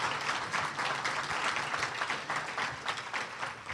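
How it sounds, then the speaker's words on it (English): At a policy conference on federalism, an audience applauds: a sustained, dense rush of many hands clapping, steady and moderately loud, with no speech over it. "Please give them a big round of applause for putting this together."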